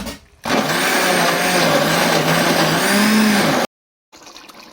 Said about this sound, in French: C'est dans le même mixeur que j'ai mixé l'ail et le gingembre.